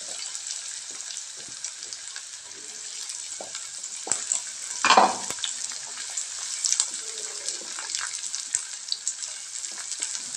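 Ridge gourd pieces fry in oil with browned onion, giving a steady close sizzle throughout with a few stirring scrapes and a louder burst near the middle, no voices.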